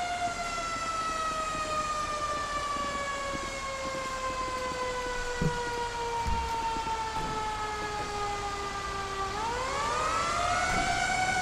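Fire engine sirens wail in the GTA 5 video game as the engines arrive, a steady descending tone that sweeps back upward near the end over a low engine rumble.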